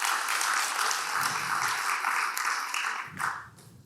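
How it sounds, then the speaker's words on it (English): A small group applauds as a greeting at a weekly online mindfulness meditation session, a steady patter of many hands clapping that thins out and fades near the end. "let's just give them a little round of applause"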